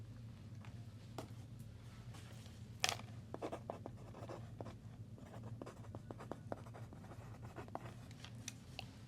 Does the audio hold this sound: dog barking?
no